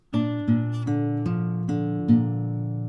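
Opening of an acoustic guitar riff, tuned to standard 435 Hz: about six plucked notes with sustained ringing strings, played close and fairly quietly.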